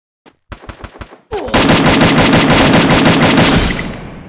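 M4A1 assault rifle in Garena Free Fire: a few spaced single shots, then a loud, sustained rapid automatic burst of close, evenly paced gunfire that tapers off at the end.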